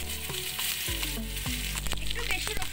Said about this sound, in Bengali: এরপর দিয়ে দেবো হচ্ছে রসুন, রসুন এটা আমি বাটা দেবো না, এটা কুচিয়ে দেবো